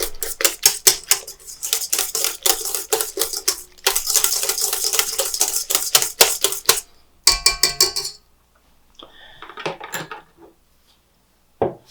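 Hot cross bun dough being mixed in a bowl gives off fast, rattling clicks and taps in long steady runs, then shorter bursts with brief pauses and a few scattered knocks.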